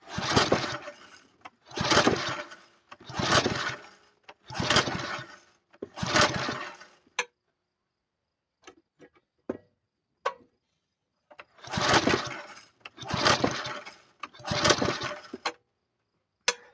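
Old engine left idle for twenty years being cranked, with five rhythmic bursts of cranking, a pause with scattered small clicks, then three more cranking bursts, fairly loud and close, never catching.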